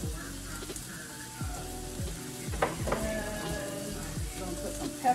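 Onion sizzling in a hot frying pan, a steady crackle with soft stirring scrapes and occasional utensil clinks, close and moderately loud with no talking.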